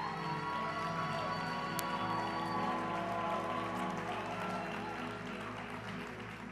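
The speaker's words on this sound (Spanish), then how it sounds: "Le recibe a ustedes con un caluroso aplauso de agradecimiento" A church congregation in Puerto Rico gives warm applause, a steady crackling wash blended with sustained musical tones, moderately quiet and continuous, fading slightly toward the end.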